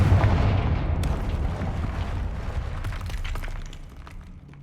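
Blasting-spell explosion in the video game Hogwarts Legacy, a heavy booming blast with a deep rumble that decays over several seconds with scattered crackling debris.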